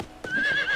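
A video-game horse lets out a single short whinny, loud and close, with a rising pitched cry after a brief thud.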